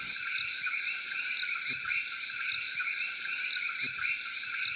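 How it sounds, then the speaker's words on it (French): Night chorus of the rare, endangered Tiburon frog: steady layered croaking trills sounding continuously at moderate volume over a quiet background, with a few faint low thumps and no voices. "cette grenouille de Tiburon menacée d'extinction et redécouverte au cours de cette expédition"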